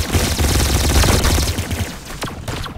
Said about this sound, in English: Really, the baddest gun in the game.